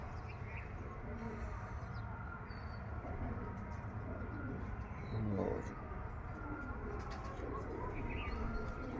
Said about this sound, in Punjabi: ਕਬੂਤਰੀ ਚਿੱਟੀਆਂ ਦੀ